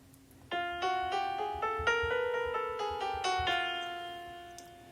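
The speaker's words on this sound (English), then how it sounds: "essentially a chromatic scale sounds like this" A piano phone app plays a chromatic scale, a run of closely spaced ascending notes struck one after another at a moderate steady pace, clear and close with no talking.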